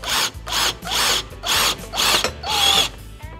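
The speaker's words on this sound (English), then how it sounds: "We're going to use a drill, Phillips head" A power drill with a Phillips bit whirs in five or six loud bursts separated by short pauses, close by, with a steady rhythm and no talking.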